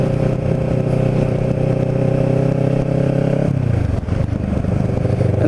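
A Kawasaki Ninja 650r motorcycle rides along Bayshore Road through The Villas, New Jersey, its engine droning steadily loud with wind noise, the pitch dropping as it shifts or slows partway through.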